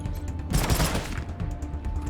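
Gunfire from turn-based combat in the Wasteland 3 video game, a dense burst of shots hitting hard near the start and then tailing off into a rumbling, echoing decay with no one talking over it.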